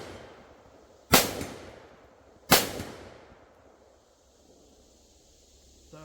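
Two sharp, loud rifle shots from a budget SPR build at an outdoor range, about a second and a half apart, each with a decaying echo tail, and quiet in between.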